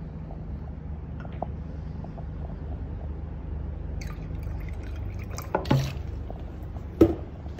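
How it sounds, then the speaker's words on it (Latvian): Water is poured into gasoline in a glass container during a fuel-additive demonstration: a quiet background, then a brief trickle and a couple of close splashing drips near the end. "Pieliesim tam klāt ūdeni."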